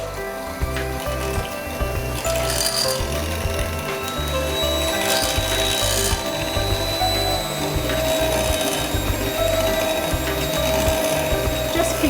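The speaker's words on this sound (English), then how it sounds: "Bit of a noise now because this has to be done with a whisk." A hand whisk beats meringue in a bowl with a fast, steady, rhythmic clatter of wire against the sides, continuous and close throughout.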